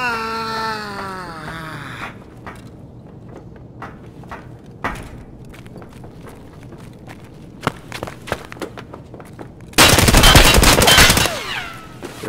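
Gunfire from an M4 rifle in the video game Escape from Tarkov: scattered sharp single shots ring out through the middle, then a loud sustained burst near the end, with game ambience and a tonal sweep at the start.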